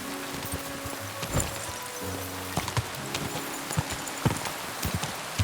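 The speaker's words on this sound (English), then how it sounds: "Come on, horse." Horse hooves clip-clop in the Kingdom Come Deliverance 2 video game, a light, irregular patter of steps at moderate distance over a soft background hiss, with no speech.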